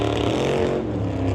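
A Chevelle drag racing car at a drag strip in Mission, BC, its engine a loud, steady low roar with a slight drop in pitch as it comes off the gas and coasts.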